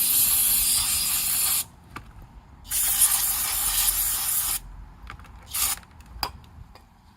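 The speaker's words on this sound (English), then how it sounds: "We're going to go take and spray some brake cleaner on there to make sure we didn't get any grease on the pad by accident" Brake cleaner sprayed onto the brake pads of a Jeep Wrangler JK during a pad and rotor job: three loud, close hissing bursts of aerosol, the longest about two seconds, separated by short quiet gaps with faint clicks.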